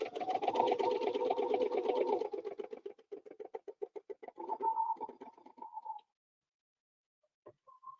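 A sewing machine stitches fabric in fast, rhythmic bursts, close and fairly loud, slowing into separate pulses before stopping at about six seconds, followed by a few faint clicks.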